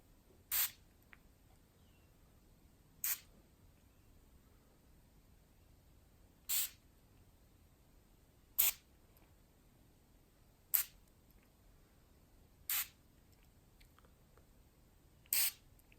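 A pillow mist spray bottle gives seven short, crisp spritzes spaced a few seconds apart, close to the microphone in a quiet room with no talking.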